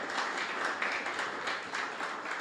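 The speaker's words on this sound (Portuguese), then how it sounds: "Se você concorda com isso, aplauda o Senhor Jesus" A church congregation applauds together in worship, a dense, steady wash of many hands clapping that sounds fairly distant and soft, with no talking over it.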